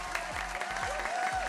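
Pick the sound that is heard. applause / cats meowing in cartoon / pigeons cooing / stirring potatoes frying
applause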